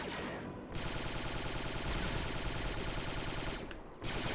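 Rapid automatic gunfire in a shooting video game as a magazine is emptied, a steady stream of close, loud shots in two bursts separated by a short gap, with no talking.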